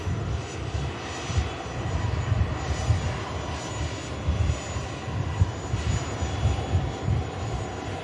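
An eleven-year-old NetJets Cessna Citation business jet at Manchester Airport gives a continuous, fairly loud engine roar with a broad rumbling wash and slight fluctuations, steady throughout and without talk.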